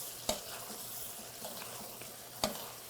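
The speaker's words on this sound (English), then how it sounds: "We're going to stir all this through." Garlic and crushed tomatoes stirred in a hot pan for arroz con pollo, a soft steady sizzle with scraping spoon strokes and two sharp knocks against the pan.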